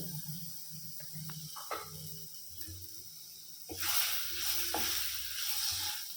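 Ginger garlic paste sautés in a hot pan for an egg masala gravy. Quiet stirring clinks come first, then a loud, steady sizzle and hiss rises and carries on to the end.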